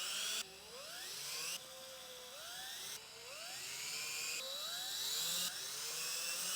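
A power drill runs in repeated short bursts, tightening velocity stack bolts on a 2025 Honda CBR1000RR-R Fireblade SP; each whir rises in pitch before stopping, faint and close, with no talk.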